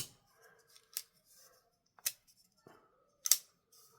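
An Ozark Trail glow-in-the-dark folding knife is opened and closed, giving three sharp, close metallic clicks spaced about a second apart, with quiet sliding and handling noise between them.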